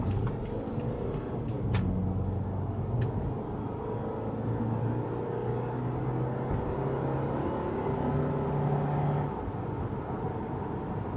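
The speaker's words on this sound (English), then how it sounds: "let's give it some beans and see how it performs through the gears on a little bit moderate acceleration" An old Subaru with a history of head gasket trouble pulls away under moderate acceleration and shifts up through the gears, a steady engine rumble running throughout with a few faint ticks at the start and no talk.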